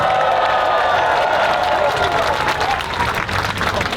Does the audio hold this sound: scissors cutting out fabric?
no